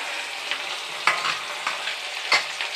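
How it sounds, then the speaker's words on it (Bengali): Pieces of katla fish sizzle in hot oil in a wok, giving a steady close frying hiss broken by sharper crackles and spatters every half second or so. "এবার কড়াই তেতে গেছে মাছ দিয়ে দেবো"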